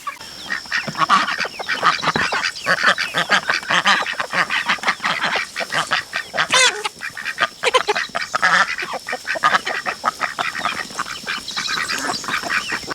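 A flock of ducks quacks loudly and continuously, with overlapping honking calls and no talking.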